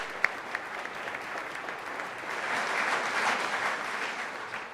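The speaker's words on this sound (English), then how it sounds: "let's go and give them a round of applause" An audience applauds a pair of presenters, a dense, steady patter of many hands clapping throughout, swelling slightly toward the middle, with a few sharper individual claps near the start.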